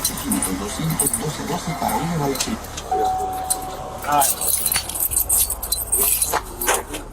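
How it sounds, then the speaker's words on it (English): Car keys jangle and clink in short metallic bursts during a tense roadside confrontation, with people talking over and between them. "Give me the car keys."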